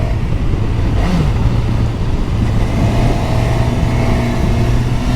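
A 2022 Suzuki GSX-S 1000 GT motorcycle being ridden two-up, its engine a steady low drone mixed with heavy wind rush, loud and continuous throughout with no talking.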